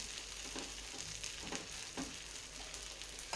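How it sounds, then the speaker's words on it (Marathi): Green pea dosa roasting in oil on a pan over a full gas flame, giving a steady, fairly faint hiss with a few soft crackles and no voices. "गॅसची फ्लेम फुल करून आपल्याला ते डोसा भाजून घ्यायचा आहे"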